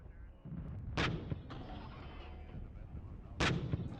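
Artillery firing on T-64 BV tanks in the real-time tactics war game Regiments, with two sharp, booming gunshots a few seconds apart over a low rumbling battle background.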